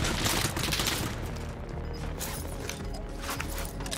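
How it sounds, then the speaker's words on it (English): Gunfire in a multiplayer shooter video game, with a dense, sustained fusillade of shots that continues without a break through the whole moment, loud and close, with no talking over it. "Someone was on the hill shooting us from behind."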